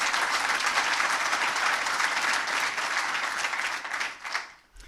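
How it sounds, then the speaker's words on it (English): Audience applause fills a hall at an award conferment ceremony, a dense steady clapping from many hands that gradually thins and fades out toward the end. "I was going to ask you to applaud afterwards, but every time you can do it because they do deserve it"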